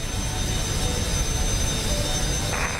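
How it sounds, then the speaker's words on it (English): Steady roaring jet noise of a Boeing 727 flyby in Microsoft Flight Simulator, a constant broadband rush without speech. "There goes the flyby view of the 727"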